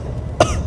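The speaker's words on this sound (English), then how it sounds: "I think that cough of yours is getting worse." A single short cough, close and fairly loud, over a low steady rumble of background noise.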